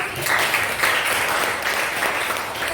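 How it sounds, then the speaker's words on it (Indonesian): Applause from a class of students in a school lesson, a steady, dense wash of clapping that carries evenly through the moment without a break. "Berikan tepuk tangan untuk"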